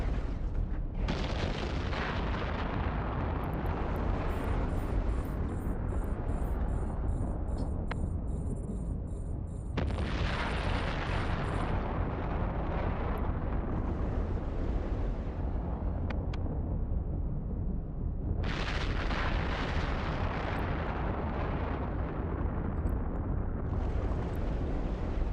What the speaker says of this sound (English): I'll just leave the missiles going till the frigates die.